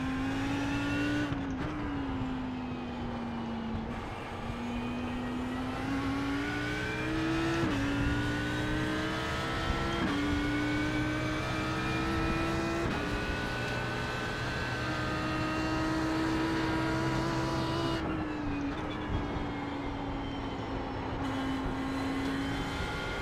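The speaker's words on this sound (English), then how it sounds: "I think I remember reading that they did a sound improvement to the Audi. And man, it's evident. This thing sounds amazing." Audi R8 GT3 racing at Circuit Park Zandvoort in iRacing, a loud sustained engine drone climbing through the revs with several gear shifts, steady and close throughout.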